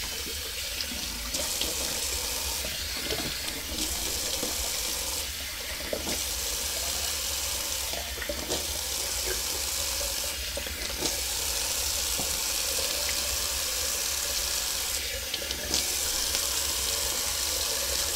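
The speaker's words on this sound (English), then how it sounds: "All right, a little cold water rinse." Cold tap water runs steadily into a sink for a shaving rinse with a constant splashing hiss, interrupted by occasional clinks and small handling sounds nearby.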